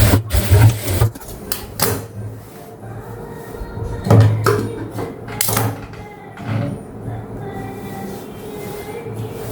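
A sewing machine stitches the main cloth of a pleated frock, its needle running in loud mechanical bursts with short pauses between runs, close up and with no talking.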